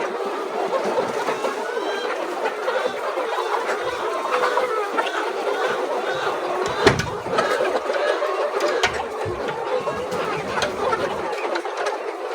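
Isa Brown laying hens, about 15 weeks old, clucking continuously in a flock, overlapping murmurs and short calls with a few sharper squawks, steady and close throughout.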